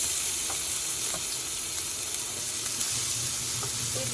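Onions hitting hot oil in a pan, giving a steady, loud broadband sizzle and hiss that runs unbroken throughout, with a few faint clicks of stirring.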